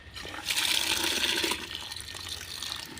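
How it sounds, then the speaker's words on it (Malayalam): Water gushes and splashes into a container for about a second, then continues as a quieter running trickle; about half a litre poured. "ഒരു അര ലിറ്ററും കൂടെ നമുക്ക് ഇതിൽ വെള്ളം ഒഴിച്ചു കൊടുക്കാം"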